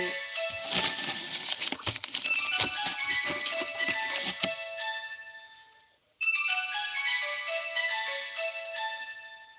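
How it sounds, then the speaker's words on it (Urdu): A mobile phone ringtone sounds for an incoming call, a bright repeating electronic melody that plays loudly, cuts out briefly near the middle, then resumes and continues to the end. "موبائل سامنے پیا بتی اسی دی بلدی پئی ہے کال آ رہی ہے"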